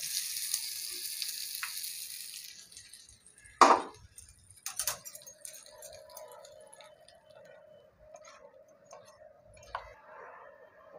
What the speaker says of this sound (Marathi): फोडणी तळतली, आता चटणीमध्ये घालते